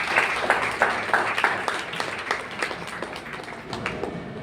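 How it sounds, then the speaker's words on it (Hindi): A church congregation at a Good Friday service bursts into applause, a steady wash of many hands clapping at moderate distance with individual sharp claps standing out throughout. "इस बात की तालियां होनी चाहिए।"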